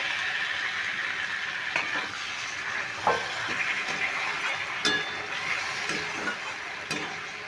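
Ground spice paste cooking down in a pan with a little water, with fried potatoes added, for a light Bengali fish curry: a steady soft sizzle with occasional stirring clicks and scrapes, close and alone.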